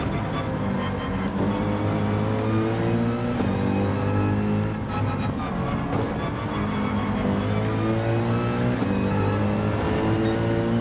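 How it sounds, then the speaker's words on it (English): Racing cars at full throttle in Gran Turismo 7, a steady loud engine roar with rising and falling revs from several cars close together, unbroken for the whole stretch. "So you can hear them. They're on full throttle pretty early there."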